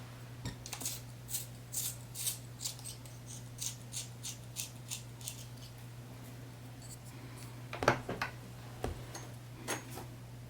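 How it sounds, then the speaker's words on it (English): A graphite pencil is sharpened with a series of quick, crisp scraping strokes in an irregular rhythm, close and quiet, over a low steady hum. "And I'm going to sharpen his pencil."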